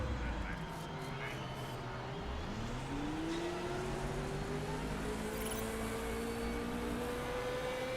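Race cars on a dry track in Motorsport Manager, engines whining and rising in pitch as they accelerate away, fairly faint beneath continuous commentary.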